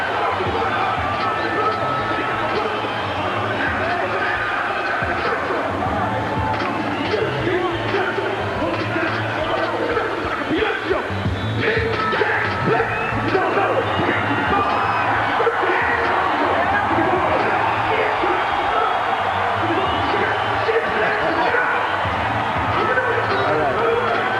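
A large boxing arena crowd roars and cheers steadily as Roy Jones reaches ringside, a dense wall of noise with an announcer talking over it.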